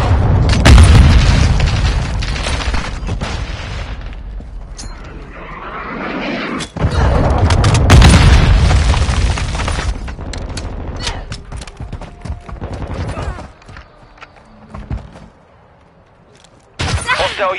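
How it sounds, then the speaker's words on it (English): Cruise missile blast in Call of Duty: Modern Warfare II, a loud deep boom rolling out over sustained battlefield gunfire, with a second heavy rumbling burst midway and scattered shots trailing off. "Hostiles launched a cruise missile."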